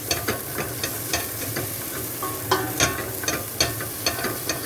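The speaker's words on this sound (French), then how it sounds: "Là, je viens de rajouter mes olives noires, j'ai remué." Black olives are stirred through garlic and onion frying in a pan, giving a steady sizzle with irregular scraping and clacking strokes of a utensil, close and moderately loud.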